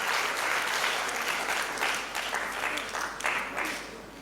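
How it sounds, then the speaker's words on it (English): Audience applause at a West African Examinations Council ceremony in Freetown, Sierra Leone, a full crowd clapping loudly and continuously, swelling in waves before tapering at the end. "one more round of applause for"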